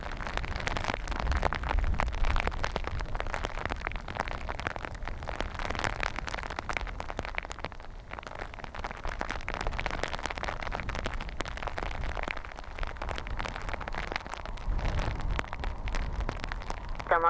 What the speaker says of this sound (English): There's hailstones in this,